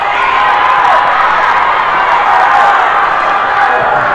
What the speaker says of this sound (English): The crowd is loud.